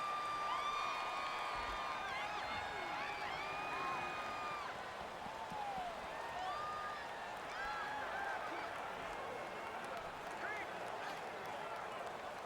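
A home crowd roars at an NFL football game between the Atlanta Falcons and Los Angeles Chargers, a steady dense stadium wash with whistles and shouts rising over it throughout.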